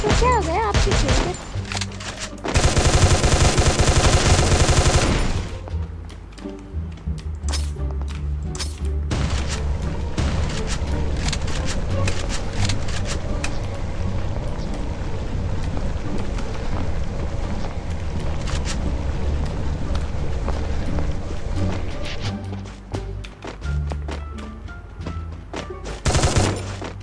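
Rapid bursts of automatic gunfire and shots in a ranked match of a mobile shooter game, loud and dense, with a sustained heavy barrage early on and repeated volleys afterward.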